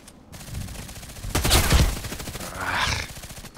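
Rapid bursts of automatic gunfire in the shooter game Contract Wars, loud and near, with a dense volley rattling through the middle and scattered shots before and after.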